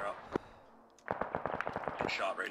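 Battlefield gunfire in Arma 3 during a PvP trench fight: a lone sharp crack, then a rapid cluster of quieter, distant-sounding shots mixed with a voice speaking over radio chatter.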